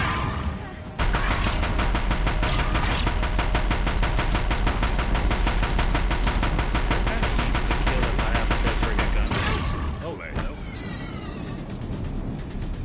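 Deathbringer machines in Horizon Zero Dawn fire a loud, dense stream of rapid automatic shots for about eight seconds without a break. The barrage then cuts out, and quieter game noise and rumble follow.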